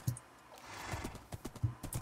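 Hooves of a horse in Minecraft clop in an uneven walking rhythm, fairly soft, with a few sharper knocks and no talking.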